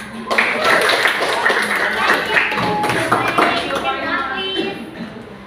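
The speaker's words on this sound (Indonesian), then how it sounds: "Give applause, beri tepuk tangan." Classroom applause breaks out as students clap together, a dense patter of hand claps under overlapping voices that gradually thins toward the end.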